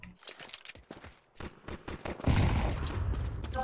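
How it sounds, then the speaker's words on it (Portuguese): Rapid bursts of gunfire from the video game Counter-Strike, sharp cracks in quick succession followed by a denser, louder volley near the end, with no talking. "O cara deu tiro pulando!"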